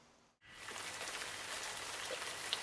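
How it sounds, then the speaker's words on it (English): Steady rain falls close by, a dense hiss of drops on surfaces that begins abruptly after a brief silent gap and continues without talk, near Kilauea volcano in Hawaii. "It's raining."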